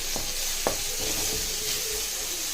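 Tomatoes and salt sizzling in a pan for cabbage rice, a steady close hiss of frying with a few soft spatters and light stirring knocks, no talk.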